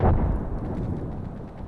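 A frag grenade goes off in the Apex Legends shooter, a single booming blast at the start whose low rumble fades over a second or so.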